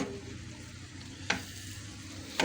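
Eggs frying in a pan for a home breakfast of egg bhurji with roti, a steady low sizzle running throughout, broken by two sharp scraping stirs near the end, with no talking.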